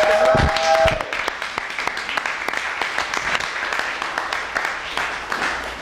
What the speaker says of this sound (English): Everyone clap for Liz.